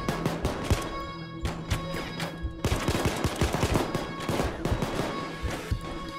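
Gunfire in the video game PayDay 2 comes in rapid bursts of sharp, close shots. The volleys pause briefly and then pick up again, with a few single cracks mixed in.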